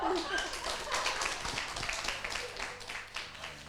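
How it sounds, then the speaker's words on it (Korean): An audience applauds at the opening ceremony of a women's professional baduk (Go) tournament, a dense, continuous patter of many hands clapping at moderate volume, with some talking mixed in. "큰 박수 부탁드립니다"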